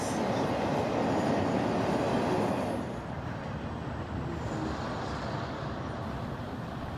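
A CSX freight train passing at a railroad, a broad steady rumble of rolling wagons that is loudest for the first few seconds, then eases to a lower continuous roar, heard alone with no voices.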